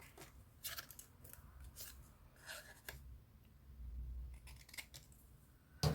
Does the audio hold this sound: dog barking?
no